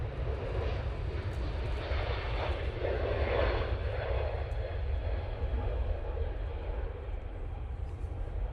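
A TUI airliner roars at Manchester Airport, a loud steady jet engine rumble that holds for several seconds at a plane-spotting spot, with nobody talking.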